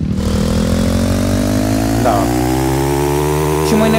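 A motorcycle engine in a video game idles steadily with a low, even drone, close and loud, with a faint whine rising briefly near the end.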